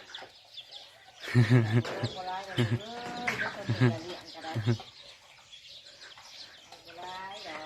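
Chickens cluck and call in short bursts around a rural village home in the morning, close and fairly clear, with quieter stretches between the calls.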